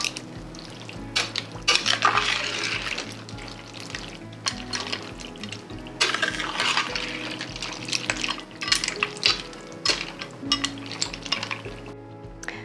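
Beef broth gets stirred into a pot of chili mac and cheese, with wet sloshing and scraping, clinks of a utensil against the pot, and a steady low rhythmic pulse in the background.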